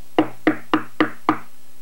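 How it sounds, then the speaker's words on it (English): Knocking on a door: five sharp, evenly spaced raps in a steady rhythm, close and clear with nothing else around them. "it sounds as if there's someone at my door"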